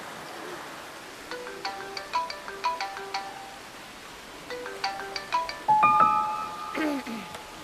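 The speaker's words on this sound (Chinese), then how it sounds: "你手机响，你接吧，" A mobile phone ringtone plays as a melodic electronic tune in a quiet café, repeating phrases in two bursts, moderately loud and close, with a brief pause between them.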